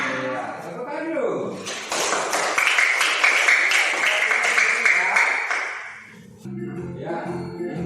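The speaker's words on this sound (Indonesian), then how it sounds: "Ya, tepuk tangan dulu." A class of children claps together for a few seconds in a rhythmic burst, mixed with voices, before speech resumes alone.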